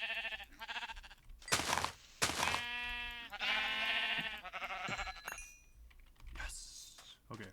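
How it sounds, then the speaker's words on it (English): Sheep bleating in Minecraft 1.7.10, with several distinct wavering baas at close range, interleaved with keyboard typing clatter and brief bursts of noise. "Oh, there's sheep."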